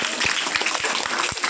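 A school audience at an Independence Day event claps for a girl, a dense, loud, steady burst of applause from many hands close by.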